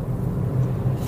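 A Peugeot e-208 electric car accelerating in normal mode, heard as a steady low rumble of road and motor noise from inside the cabin, with no talk over it.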